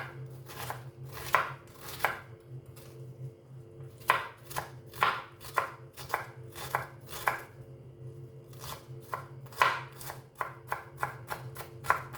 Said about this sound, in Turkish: Şu şekilde küçük küçük doğruyoruz arkadaşlar soğanlarımızı.